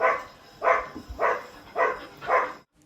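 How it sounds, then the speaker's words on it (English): An elderly Spaniel barks five times in a steady rhythm, moderately close, with short pauses between each bark and no talking. "that is my dog barking in the background"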